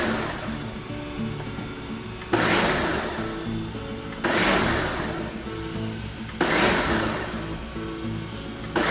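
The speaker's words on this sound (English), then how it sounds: "You can see how it already starts to get more liquidy just from 5, 6, 7 hits of the blender" A blender pulsing passionfruit whirs loudly in repeated short bursts, each surge starting abruptly, about four pulses in a row with no voices.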